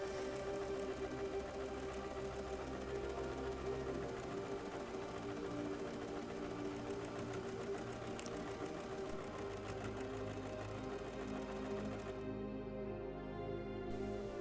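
A sewing machine strains while stitching a ruffled skirt seam for a historical costume, a continuous close whirring drone that shifts in pitch near the end.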